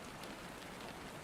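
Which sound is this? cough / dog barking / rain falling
rain falling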